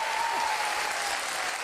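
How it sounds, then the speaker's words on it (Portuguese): Studio audience applause at the Teleton charity broadcast, a brief dense wash of clapping at moderate level with a faint steady tone beneath. "Muito bem, podem bater palmas."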